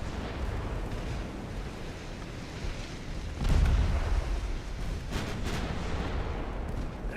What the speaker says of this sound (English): Your torpedoes are blown up.